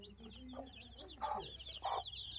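Chicks being called over, giving quick high peeps over a couple of low clucks and bursts of scratchy noise, near and fairly quiet.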